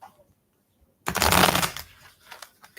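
Tarot cards being shuffled by hand: a dense, loud riffling burst starting after a second of quiet, tapering into a few softer card slides and taps.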